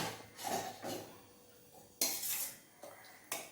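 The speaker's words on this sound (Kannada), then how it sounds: "ಸೊ ಎಲ್ಲನೂ ಸ್ವಲ್ಪ ಸ್ವಲ್ಪನೇ ಹಾಕ್ತಾ ಇದ್ದೀನಿ" Utensils clink and scrape against plates as small portions of several home-cooked vegetarian dishes, including raita, chickpea and ivy gourd sukka, bitter gourd fry and pea-potato curry, are served onto one plate, in short separate bursts with pauses between.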